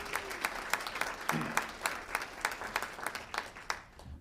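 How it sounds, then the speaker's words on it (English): Audience at a North Carolina military community childcare roundtable gives a round of applause for the secretary, a steady patter of individual claps at moderate distance with a faint voice briefly underneath. "can we have one more round of applause for our secretary?"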